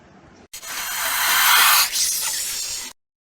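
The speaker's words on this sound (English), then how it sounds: "Snake." A snake hisses in one continuous, loud, breathy burst lasting a couple of seconds, close and harsh, starting and stopping abruptly.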